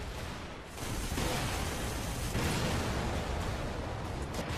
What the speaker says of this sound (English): Whatever it is, there's explosions everywhere.